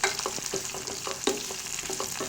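Onions for tomato gravy sauté in a pan with a bright, steady sizzle and quick rhythmic scrapes and taps from a spoon stirring them. No one talks.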